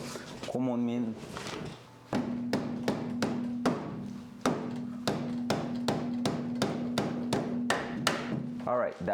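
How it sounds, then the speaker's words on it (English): A rubber hammer strikes a nut on a car during framerail work, landing a long series of regular, loud thuds at a steady rhythm after a brief pause, close by with no talk. "with the rubber hammer, we're not like destroying the nut on top, and it did the job"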